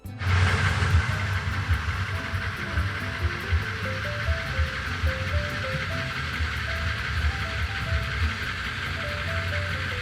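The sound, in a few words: 2007 Skoda Fabia exhaust running evenly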